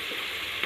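Spices, including red chilli, frying in a pan for pulao as they are stirred, a short burst of close, steady frying hiss with no voices.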